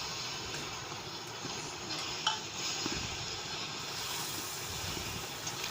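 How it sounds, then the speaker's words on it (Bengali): Tomato paste stirred into a small amount of hot oil in a pan while cooking jackfruit-prawn curry, giving a steady, soft sizzle with faint scraping of a spoon throughout. "এবার টমেটো বাটাটা দিয়ে দিলাম।"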